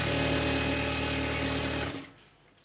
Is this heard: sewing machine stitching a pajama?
yes